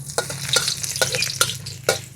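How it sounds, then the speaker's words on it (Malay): Onions sautéing in hot oil for a Malay fried red beef dish, a steady close sizzle broken by several sharp stirring scrapes from a spatula in the pan. "Panas dah turun bawang. Tumis bawang dulu."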